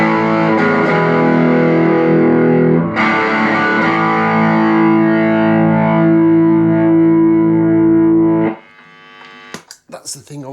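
Electric guitar through a homemade overdrive pedal cranked to full distortion, a thick fuzzy sustained chord that rings for about eight seconds with a fresh strum partway, loud and close, then cut off by scratchy string noise.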